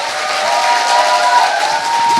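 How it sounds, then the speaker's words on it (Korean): Studio audience applauding steadily for a guest on a Korean political talk show, a dense, continuous wash of clapping with no voices over it. "사장님한테 진짜 큰 용기 박수 좀."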